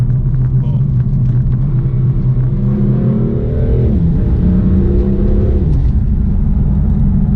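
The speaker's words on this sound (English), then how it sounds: "We've now got the exhaust flaps open, so immediately in here it's a that little bit noisier." A deep, steady engine rumble from inside a BMW F82 M4 with its exhaust flaps open, the exhaust note rising and dropping in pitch as the revs change.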